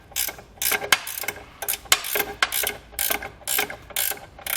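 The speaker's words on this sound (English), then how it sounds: "On the back of our horn, we need to remove a 13mm nut that supports it to the frame rail." A ratcheting wrench works a 13mm nut off the back of a horn on a frame rail during a base plate install on a 2019 vehicle, producing close, rapid bursts of clicking pawl strokes in an uneven rhythm with short pauses.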